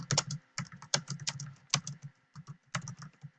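Rapid, uneven clicking of fingers typing on a computer keyboard, close and clear, with short pauses between bursts of keystrokes and no voices.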